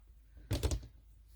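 Scissors snip needle felted wool picture edges in a quick burst of two or three close crisp cuts, alone in a quiet room.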